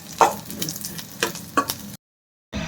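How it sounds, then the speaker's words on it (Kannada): Curry leaves sizzle and crackle in a hot pan for Kerala chicken gravy, with a few sharp spatula scrapes over a steady fry before a brief silence and a return of the sizzle. "ಇದು ಫ್ರೈ ಆಗ್ತಾ ಇದೆ, ರೋಸ್ಟ್ ಮಾಡಬೇಕಷ್ಟೇ. ಕರಿಬೇವನ್ನ ಹಾಕೊಂಡೆ."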